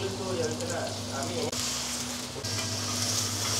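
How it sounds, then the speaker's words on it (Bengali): Sauces fry in soybean oil with spring onion in a hot wok, giving a steady, close sizzle and hiss that runs without a break, with a brief dip midway. "জাস্ট সসটা 1 মিনিটের মতো হালকা একটু ভেজে নেবেন।"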